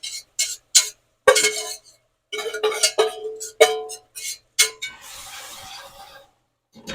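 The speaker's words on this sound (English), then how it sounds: "I'm going to add my vegetables in here, my sauteed vegetables, and let them have a stir around" Sautéed vegetables being stirred into a pot of gumbo made with greens, heard as a series of sharp, close utensil clinks and taps against the pot in an irregular rhythm, followed by a soft scraping.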